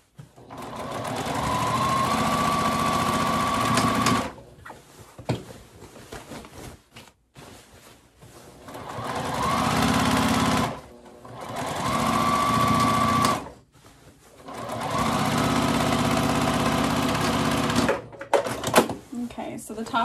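A sewing machine back stitching straps onto a fabric tote bag runs in three long, close bursts of rapid mechanical clatter with short pauses between them, and a person talks during the gaps.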